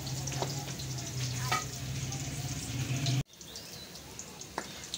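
Onions frying in a pan with oil for a palak (spinach) recipe, a steady close sizzle with stirring scrapes that cuts off abruptly partway, leaving quieter kitchen noise.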